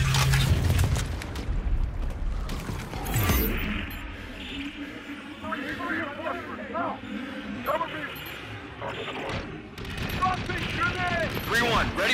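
Aircraft gun run in Call of Duty: Infinite Warfare, an opening burst of rapid heavy gunfire followed by scattered impacts and rumbling, with radio chatter from pilots running over much of the sequence.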